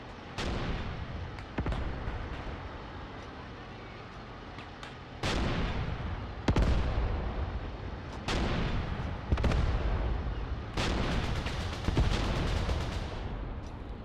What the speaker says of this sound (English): What's been so appalling is these direct artillery strikes on us.